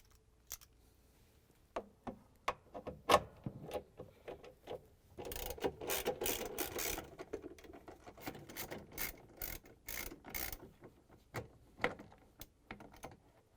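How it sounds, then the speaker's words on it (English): A socket wrench removes 3/8 bolts from the cover of a GE washer during a drain pump replacement: quiet, rapid ratchet clicks come in irregular bursts, with a longer run of dense clicking in the middle. "It has 3/8 bolts that we're going to take out using the socket wrench."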